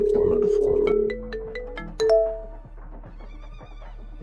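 A phone rings nearby with a bright, tonal melodic ringtone, a run of chiming notes that repeat and then fade out into quieter tones.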